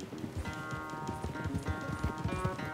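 A horse gallops in a race in the video game Red Dead Redemption, its rhythmic hoofbeats thudding steadily throughout over a bed of sustained game music.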